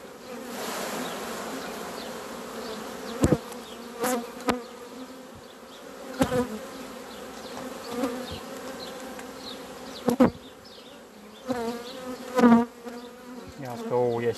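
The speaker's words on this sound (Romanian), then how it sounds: "Aici am avea albine să facem 5 roi." Honeybees buzzing around an open hive while frames are worked, a dense steady hum close by with sharp knocks and clicks scattered through it.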